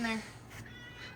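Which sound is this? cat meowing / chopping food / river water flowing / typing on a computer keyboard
cat meowing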